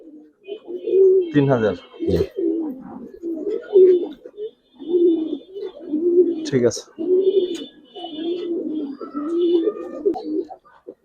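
Giribaz pigeons coo repeatedly in soft, rhythmic throaty phrases, close by, while someone talks briefly and a few sharp clatters break in.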